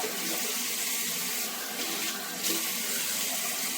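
Tap water runs steadily from a faucet into a sink in a home kitchen or bathroom, a continuous close splashing hiss with slight swells, no voices.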